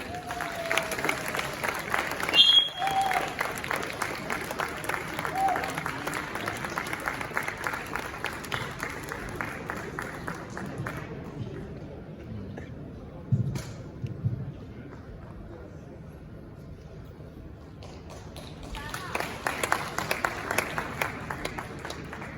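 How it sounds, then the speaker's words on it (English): Audience applause at the 29th GJA Media Awards ceremony, a dense broadband patter of many hands that fades out midway, leaving a quiet lull with a few scattered claps, then swells back up near the end. "And now with another big round of applause, please help me welcome from Joy News of the Multimedia Group, Anna Sabit."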